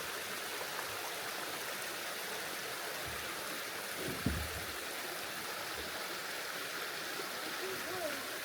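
Hot spring water flows out of the ground on a hillside at Liard Hot Springs, a steady, even rushing wash heard close throughout with a brief dull knock partway through.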